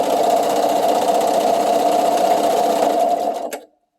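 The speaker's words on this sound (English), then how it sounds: "in order to finish the seams so it doesn't unravel, I go over to my sewing machine" A sewing machine runs steadily, finishing the seams on a sweater romper with a back-and-forth stitch. It hums loud and close for about three and a half seconds, then stops abruptly into silence.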